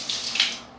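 Water rushing along a channel toward its end, a brief, steady close splashing flow.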